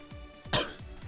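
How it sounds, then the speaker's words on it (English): A single sharp cough from someone narrating gameplay of Gundam Breaker 2 on PS Vita, close and brief, with softer throat sounds around it. "Sorry, I have a cough."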